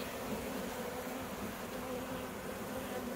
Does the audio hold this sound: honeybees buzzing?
yes